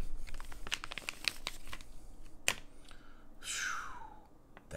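A plastic bag holding a Microtech Ultratech or Spyderco Para 3 knife is torn and crinkled open nearby, with sharp crackles and snaps and a longer rustling tear near the end.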